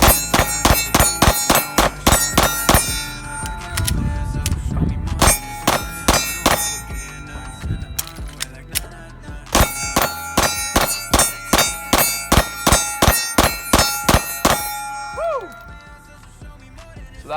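Rapid pistol shots from a Gen 1 43X fed by a Shield Arms S15 magazine, each crack followed by a bright metallic clang off steel targets, in quick strings of evenly spaced hits with a brief pause midway.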